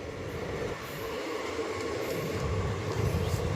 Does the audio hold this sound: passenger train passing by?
yes